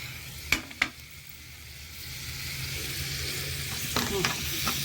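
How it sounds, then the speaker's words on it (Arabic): Tomatoes go into a hot pan for molokhia and fry with a rising, steady sizzle, preceded by two sharp clinks of a utensil against the pan and followed by a few more knocks near the end. "وبعدين هحط بقى الطماطمايه دي في قلب الطاسه"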